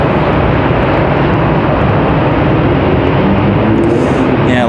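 An Embraer E190LR jet airliner departs from the runway at Raleigh Durham International, a loud continuous engine roar filling the whole stretch with steady broadband power as the jet powers up for takeoff.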